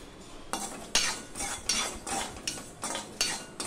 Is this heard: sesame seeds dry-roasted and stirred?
yes